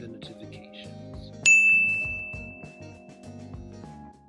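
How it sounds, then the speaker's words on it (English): A bright notification bell dings once, sharp and loud, with a long ringing tail that fades over a couple of seconds above a steady bed of background music. "hit the little bell to receive the notifications"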